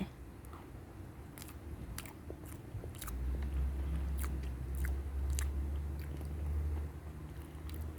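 Someone eating a chewy KitKat mousse cake from 7-Eleven, with close, repeated moist chewing and smacking sounds over a steady low hum, no talking.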